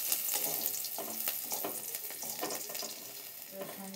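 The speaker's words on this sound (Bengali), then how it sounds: "রসুনটাকে লাল লাল করে ভেজে নেব" Crushed garlic and panch phoron sizzle and crackle in hot oil, frying steadily with small pops and the occasional clink of stirring, close and moderately loud.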